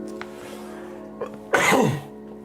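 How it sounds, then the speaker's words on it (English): A single sharp sneeze bursts out after a couple of small breathy sounds, close and fairly loud against a quiet room hum. "I'm gonna sneeze, I think."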